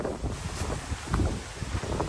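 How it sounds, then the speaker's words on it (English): Wind on a beach buffets the microphone with low, rumbling gusts and a constant rushing roar, swelling and easing over a couple of seconds. "it's a bit windy"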